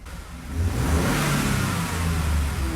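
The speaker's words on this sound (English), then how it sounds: "the first one is on the stock blow-off valve with the windows down" A 2.7 Ford EcoBoost F150 pulls hard under throttle, its engine rising to a steady roar with a broad whooshing rush from the stock blow-off valve, heard with the windows down.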